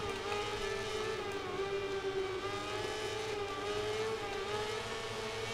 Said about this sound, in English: Put the power down, we're really revving up that rear tyre.